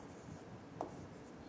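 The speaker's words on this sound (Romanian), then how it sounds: "Hai că scriem mai jos." Pen writing on a page of a sixth-grade math test, a quiet scratchy stroke lasting about a second with one slightly sharper tap midway, close and faint, with no talking.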